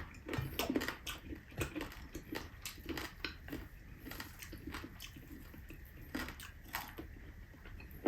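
Close, crunchy bites and chewing on crispy lechon liempo (Filipino roast pork belly), irregular crackling snaps repeating over several seconds, fairly quiet with no talking.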